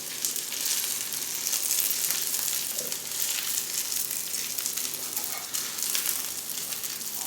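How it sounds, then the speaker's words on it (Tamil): Soya chilli idli pieces frying in hot oil, a steady dense sizzle with crackling bursts throughout, close and loud with no voices. "நம்ம கொஞ்சம் கொஞ்சமாக போட்டு வறுத்தெடுத்துக்கலாம்."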